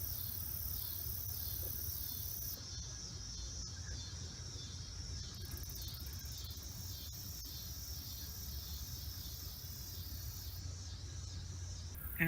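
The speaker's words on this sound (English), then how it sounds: "You hear the volume kicking up? The cicadas?" Cicadas buzz in a garden, a steady, pulsing high-pitched drone that swells and ebbs in waves over low outdoor background noise, distant and continuous with no talk.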